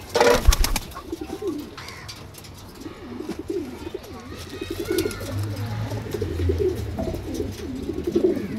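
Male pigeons coo repeatedly in soft, throaty rolls, close by, with a few sharp knocks at the start.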